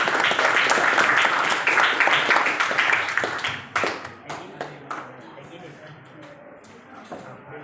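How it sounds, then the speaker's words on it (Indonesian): Classroom students clap together in a dense, loud burst of applause that thins into a few scattered, fading claps before quieting, with faint talk murmuring in the room. "Jadi tepuk tangan dulu."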